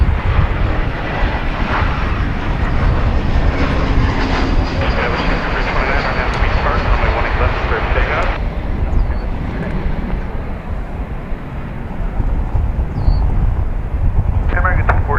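Airliner taking off at DFW Airport, a loud sustained jet engine roar that holds steady throughout and slowly shifts in tone, with people talking beneath it.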